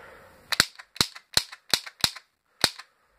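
A Walther PP9 toy cap gun firing six sharp, loud snaps in a fairly even rhythm, the last after a short pause, each crack close and dry against near silence.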